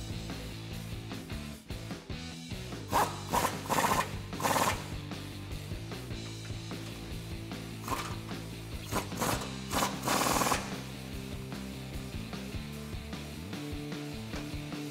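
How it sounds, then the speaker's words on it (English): A ratchet fitted with a 24 mm socket retightens the lower control arm bolts on a Tundra, with several bursts of quick clicking between pauses over a low background hum. "now we're gonna retighten the bolts for our lower control arm that we loosened earlier"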